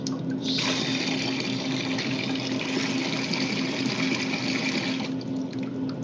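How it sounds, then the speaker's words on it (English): Water from a tap running steadily into a pot being filled for boiling pasta, a continuous rushing stream for about five seconds with a faint hum underneath. "Filling up the water."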